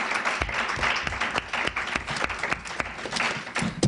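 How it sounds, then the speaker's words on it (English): Audience applause for a departing trustee at a university student trustee debate at UMass Lowell, a steady dense patter of many hands clapping close by, sustained throughout with no voices. "how about a round of applause for Phil and all he did for the last few years?"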